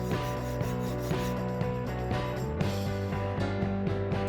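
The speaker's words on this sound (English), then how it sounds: "I used a hacksaw to cut off the original lever." A hacksaw cuts through the metal shifter lever of a homemade go-kart powered by a Ninja 250 engine, with loud, close, steady back-and-forth rasping strokes at a regular rhythm, with no talking.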